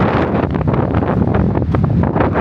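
Strong wind gusting and roaring against the microphone, a steady loud rush with no voices.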